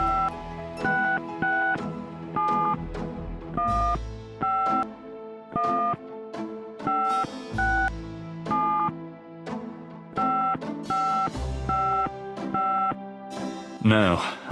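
A telephone is dialed in the Gabriel Knight: Sins of the Fathers game, a long string of paired touch-tone beeps in quick rhythmic succession over low background music.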